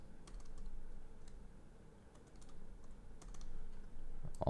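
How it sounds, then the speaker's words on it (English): Quick light keystrokes on a computer keyboard, a soft close pattering of taps in short bursts over a quiet room. "I'm just gonna type it once."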